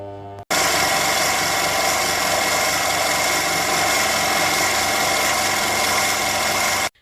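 A 7x14 mini lathe runs steadily while skinning down the outer layer of a custom lightsaber hilt, giving a loud, continuous motor whine and machining hum that starts abruptly and stops at the end, with no talk.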